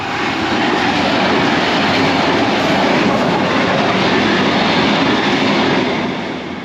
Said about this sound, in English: This here is Evie 120, Metro Trains Melbourne's infrastructure evaluation vehicle